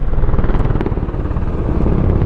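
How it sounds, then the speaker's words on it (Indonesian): A loud helicopter thunders close overhead, its rotor chopping in a steady rapid beat that fills the whole short stretch. "tiba-tiba Sarah terbangun karena suara helikopter yang sangat keras."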